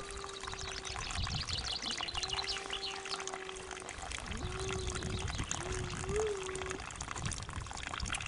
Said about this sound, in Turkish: ikinci pınar ya da kuyu ya da içme tuzlu su